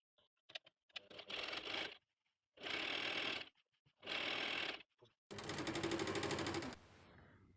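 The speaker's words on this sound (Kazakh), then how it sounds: "тігісін бастырамыз." Sewing machine stitching a seam while making a turban, running in three close bursts of steady rapid clatter with short pauses between, the last burst faster and buzzing higher.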